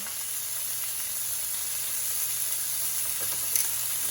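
Beef negimaki rolls, teriyaki steak wrapped around scallions, sizzle steadily in a hot pan after being flipped, a close, even hiss with a slight swell near the end and no talking.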